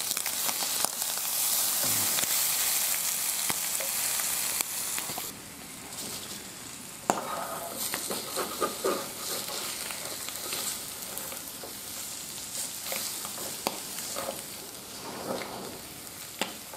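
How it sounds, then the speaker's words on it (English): An egg fries in a lightweight camping pan with a steady, bright sizzle and hiss, broken by small scrapes and stirring noises as it cooks. "This is cooking well. I might just flip my egg over."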